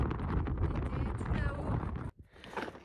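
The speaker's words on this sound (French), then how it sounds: "je sais pas si vous avez entendu beaucoup parce qu'il y avait du vent" Wind buffets the microphone on a mountain pass, a loud continuous roar and rumble that drops out abruptly near the end before gusting back in.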